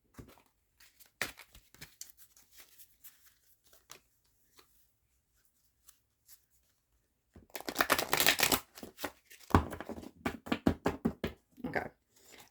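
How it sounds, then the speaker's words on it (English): A tarot card deck being shuffled up close: a few soft, scattered riffles and taps early on, then a dense, loud run of rapid fluttering card shuffles with brief pauses in between. "Let me give this deck one last shuffle."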